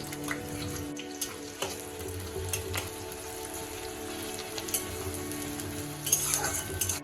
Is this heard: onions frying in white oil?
yes